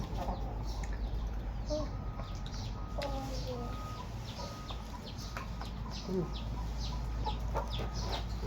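Chickens cluck and call repeatedly at a rural Thai home, the short bursts scattered over a steady background hum, with some faint human sounds.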